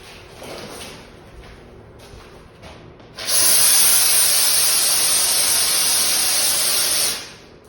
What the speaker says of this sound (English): So I'm gonna spray this one more time before we paint it.